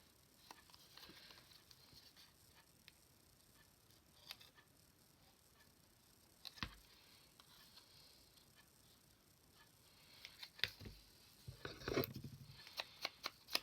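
Scissors snip through paper while cutting out a paper doll for a junk journal, quiet scattered clips and rustles that turn into a denser run of sharper snips near the end.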